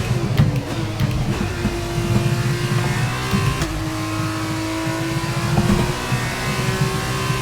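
F2 race car engine in the F1 22 video game, a steady loud high-pitched whine holding near one pitch with small revving shifts throughout, with no voices.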